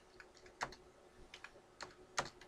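Computer keyboard keys struck in scattered single taps and short clusters, close and fairly quiet, with no voices.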